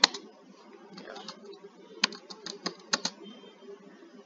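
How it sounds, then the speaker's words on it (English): Typing on a computer keyboard while entering table data, with irregular bursts of close, crisp key clicks in quick runs and short pauses between them, heard alone at a low level. "I will just have to type everything again"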